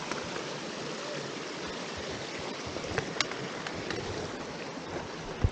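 A stream flows in a steady, even wash of water sound, moderately loud and continuous, with a few small splashes and knocks near the end and no talking.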